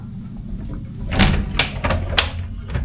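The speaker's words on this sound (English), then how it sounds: "Then you have this huge floor-to-ceiling built-in wardrobe." Floor-to-ceiling built-in wardrobe in a Benidorm hotel room, its door sliding or swinging open with a few close wooden knocks and rattles over a low room hum.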